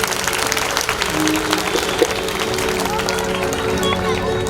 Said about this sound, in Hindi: एक बार सभी जोरदार तालियां बजाएंगे।